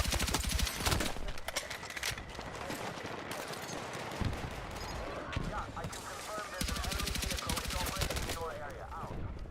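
Rapid automatic gunfire crackles in repeated close bursts during a Battlefield 6 multiplayer match, alongside other scattered game sounds.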